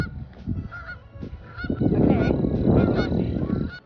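Geese honking loudly and close by on a horse farm, several overlapping calls that build into a dense, continuous chorus.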